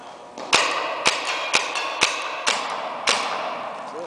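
A part snapped firmly into a Rap4 TACAMO conversion kit gives five sharp, close clicks or thunks spaced about half a second apart, each with a brief springy ring.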